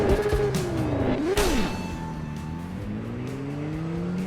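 A Kawasaki superbike in the TT Isle of Man racing video game revs hard in first gear, its engine note climbing and sweeping in pitch with a brief dip and surge midway, loud and steady throughout with no talk.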